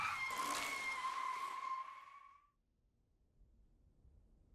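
A video game car skidding with a long, high tire squeal that fades out after about two and a half seconds, followed by a low, quiet rumble.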